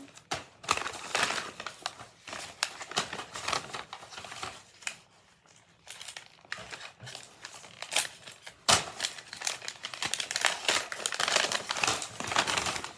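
Paper packaging crinkles and crumples through a box unboxing, with steady rustling bursts up close and brief pauses between handfuls.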